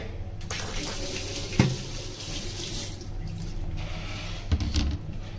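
Water trickles and splashes as salted bitter gourds are squeezed by hand in a kitchen, a steady near stream with a couple of louder drips.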